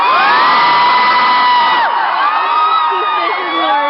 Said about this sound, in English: hear people screaming after you said his name